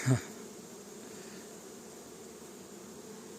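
A steady, faint buzz of Carniolan honeybees hums continuously, like bees flying around a hive, after a brief knock at the start.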